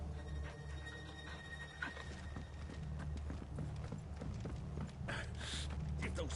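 Rhythmic clip-clop of horse hooves galloping in the video game Final Fantasy XVI over a steady background hum, with a whinny-like tone and no clear speech.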